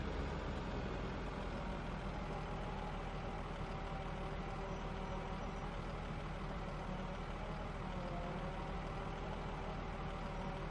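A New Holland T8 tractor in Farming Simulator 15 rumbles with a steady, continuous diesel engine drone, hitched to a large Zunhammer slurry injector, running alone without talk at an even level throughout.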